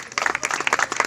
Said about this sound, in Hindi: जरा ताली बजाएंगे जी।